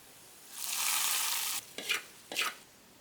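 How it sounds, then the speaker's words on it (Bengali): Hot oil with onion, garlic and green chili hits cooked dal with hog plums as a tempering, giving a loud, close hiss lasting about a second, then two shorter sizzling bursts. "এবার বাগার দেব।"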